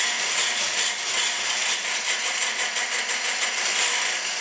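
An electric mixer whips egg whites at high speed, a close, continuous whirring buzz with a bright rattling edge that stays steady throughout.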